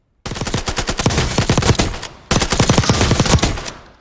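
A Mark 17 rifle fires in Warzone in two loud, close automatic bursts of rapid evenly spaced shots, separated by a brief pause, with no talking.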